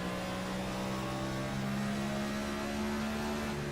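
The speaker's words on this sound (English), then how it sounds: "you just listen to the engine sound there, coasts it into the corner" A race car engine in an oval racing esports sim game, set at Richmond, holds a steady droning hum with sustained tonal whine throughout, no clear revving change.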